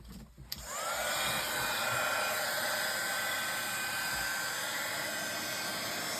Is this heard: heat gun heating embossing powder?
yes